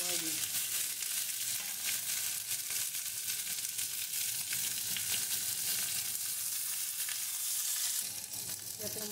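Potatoes and moringa drumsticks sizzle in a frying pan with dried chili and bay leaves, a loud, continuous hiss of hot oil heard up close.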